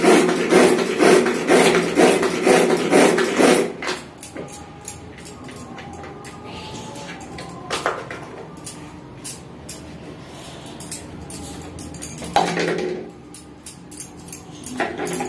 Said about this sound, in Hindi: ये देखिए कच्चा टमाटर ना हम इसमें पीस लेते हैं